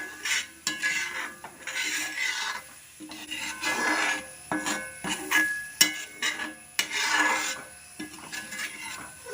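A spoon scrapes and rubs around the sides of a Kerala earthenware pan (cheenachatti) holding hog plum pickle with vinegar, in steady rasping strokes repeated close by with no talk.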